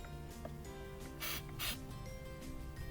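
An aerosol cleaner sprayed into a Toyota Prius air intake boot near the MAF sensor, two short hissing bursts close by amid faint clicks and handling noises.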